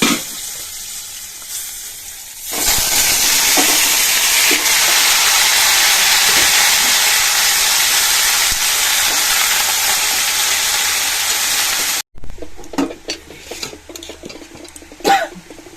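Papaya and banana stem drop into hot oil with a sudden loud sizzle that holds as a dense, close hiss for about ten seconds, then cuts to quieter clinks and scraping of stirring in the pan.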